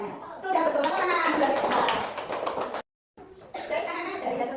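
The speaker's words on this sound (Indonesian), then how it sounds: "Tepuk tangan." A burst of clapping from a group of students in a classroom, quick and dense, with voices mixed in, pausing briefly before resuming.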